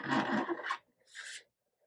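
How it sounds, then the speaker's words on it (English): Two rasping scrapes from a razor blade and hobby knife working plastic binding on a 1940s Harmony archtop guitar: a longer scraping stroke, a brief pause, then a shorter, thinner scrape, close and fairly quiet. "use some combination of a razor blade and my hobby knife to go around and scrape the binding off"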